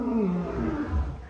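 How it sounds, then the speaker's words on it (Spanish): Lions roar in the distance at the Amaru zoo in Cuenca, with low, rumbling calls that sound faint and far off. "Los leones, se escucha cómo rugen a lo lejos"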